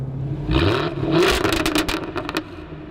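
A 2016 Jaguar F-Type's exhaust revs up in a loud, rising roar, swelling twice and then easing off, close by with a rough, crackling edge.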